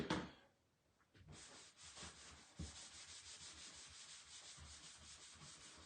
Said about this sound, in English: I am going to go ahead and wax this just a little bit because it's a brand new transfer